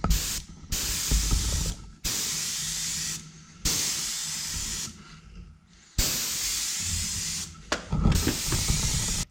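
An airbrush sprays metallic bronze paint onto a large handmade musky fishing bait, hissing in several loud bursts of one to four seconds, separated by short pauses.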